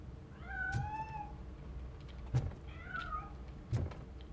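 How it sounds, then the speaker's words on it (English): A cat in the video game Robocop Rogue City meows twice, two drawn-out cries at moderate distance, with sharp thuds or clanks between them over a low background hum. "That cat must be hiding inside."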